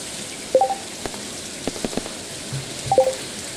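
Rain falling in the video game Stardew Valley, a soft steady patter with sparse drips, plus a couple of brief tonal game chimes and faint clicks; no voices.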